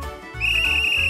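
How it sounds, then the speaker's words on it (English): A cartoon whistle blows a single loud, steady shrill note, starting abruptly after a brief lower tone and holding until the end. "The whistle to make others listen to you."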